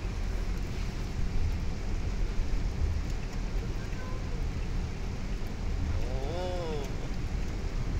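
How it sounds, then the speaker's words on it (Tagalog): Steady, dense hiss of heavy rain drumming on a vehicle, continuous throughout, with a low rumble of traffic beneath and a brief tonal chirp near the end. "Lakas ang ulan."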